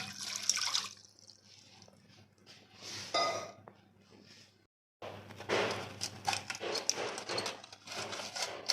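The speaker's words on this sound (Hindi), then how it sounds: "ये कढ़ाई ली है, इसमें मैं पानी डालूँगी।" Water poured into a kadhai set up to steam a caramel egg pudding, splashing and trickling close by in bursts, with a brief pause before a louder, steadier pour.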